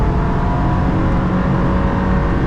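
A car holds full throttle on a Nürburgring lap, its engine a steady dense drone heard from inside the cabin, loud and unbroken throughout.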